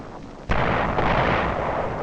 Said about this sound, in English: Heavy artillery on the mainland paves the way for another landing on Walcheren.